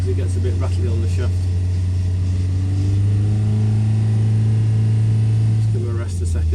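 A small-carburettor engine, an Imp-type unit with an R17 cam, runs on a dyno at a steady speed of about 3,000 rpm under load. It makes a loud, constant low drone that continues through the whole stretch, with a voice talking over it.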